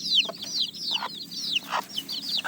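A mother hen with her young chicks on a small farm gives repeated agitated clucks and squawks at close range, a rapid, uneven run of calls with no talking.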